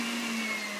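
An electric mixer whips a second batch of fresh whipping cream for a key lime icebox cake, a steady motor whine with a constant pitched hum, close and uninterrupted in this brief stretch, with no talking.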